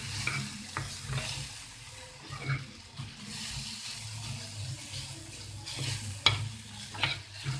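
A spoon stirs ground coriander, cumin and other spices into a spicy omelette mixture. Soft, irregular scraping and mixing sounds come through, quiet and close, with a few sharper clinks of the utensil against the bowl.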